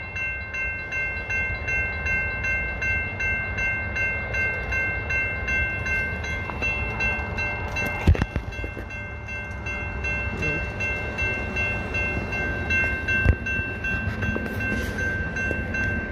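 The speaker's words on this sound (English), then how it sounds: "It's just two intermodal cars away from clearing the crossing." A Union Pacific intermodal freight train led by UP 7239 rolls steadily through the Massingale Road crossing, a continuous rumble with a sharp clank near the middle and another later on.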